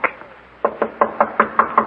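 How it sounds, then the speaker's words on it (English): Knocking on a door as a radio drama sound effect: a couple of faint taps, then a steady run of seven firm, evenly spaced raps, close and distinct, with no voices. "There's his door. Knock."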